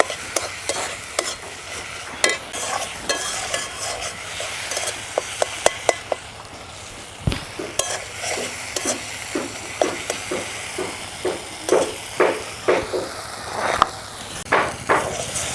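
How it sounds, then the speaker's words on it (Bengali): Spices, salt and chopped tomato fry in a pan and are stirred briskly, giving a steady sizzle punctuated by regular, sharp scraping strokes of the spoon against the metal, close and loud, with no talking. "এখন মশলা টমেটো একটু সুন্দর করে জ্বালিয়ে নিব।"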